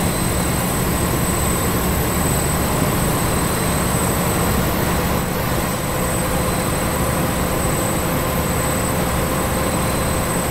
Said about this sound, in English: It's a very nice sim train that.